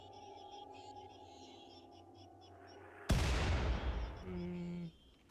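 Mortars firing in a colony-building video game, a single loud booming launch that cuts in suddenly and rolls off over a second, after a quiet stretch of game ambience.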